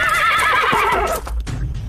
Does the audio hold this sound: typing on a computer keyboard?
no